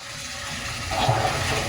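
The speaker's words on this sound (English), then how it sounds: "That's that Eheim purging the air out, because the water's coming in." An Eheim canister filter on a 300-gallon aquarium gurgles and gushes as water flows in and pushes air out, a continuous watery rush that swells louder midway.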